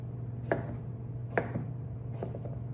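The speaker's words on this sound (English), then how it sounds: "And then I'm gonna cut little chunks." A knife chops vegetables into small bite-sized chunks for three bean chili, three crisp board strikes spaced about a second apart, close and clear against a quiet steady hum.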